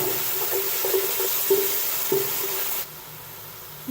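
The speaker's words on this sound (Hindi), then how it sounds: "अदरक, प्याज और टमाटर के पेस्ट को अच्छी तरह भून लेंगे।" Ginger, onion and tomato paste frying in a pan for Lahori paye, a steady close sizzle with a few soft stirring scrapes, then the sizzle abruptly drops away to quiet.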